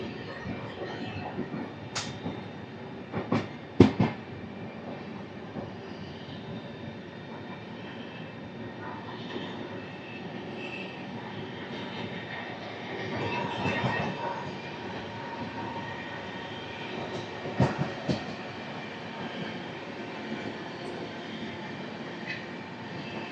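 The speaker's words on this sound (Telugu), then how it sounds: "Hubli Banaras special fair express ఇది." Hubli–Banaras special fare express running, a steady low rolling rumble from inside the coach with a few louder clanks and rattles around four and eighteen seconds, no talk.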